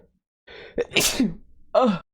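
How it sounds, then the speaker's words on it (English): A single close, sharp sneeze bursts out after a short wind-up breath, followed by a brief exhale. "Oh, I gotta sneeze."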